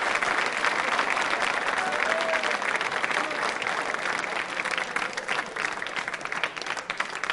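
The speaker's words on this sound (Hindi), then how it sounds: "सुरेंद्र जी के लिए तालियां जोरों से बजाइए" A quiz show audience claps loudly for a contestant, a continuous, even wash of applause with faint crowd voices mixed in, lasting throughout.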